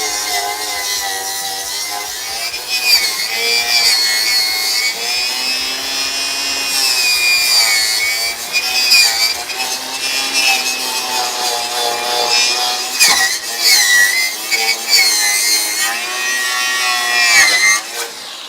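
A power tool cutting out rusty car body metal on an old Charger crew cab, a loud, continuous high-pitched grinding whine that wavers in pitch as it bites through the steel.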